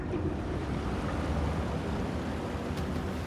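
Water drains in the video game Secrets of the Maw, a continuous broadband rushing wash that stays steady and fairly loud throughout, with no voices over it.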